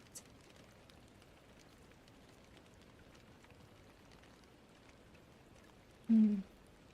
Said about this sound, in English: I turned up my phone so I can still hear the rain sound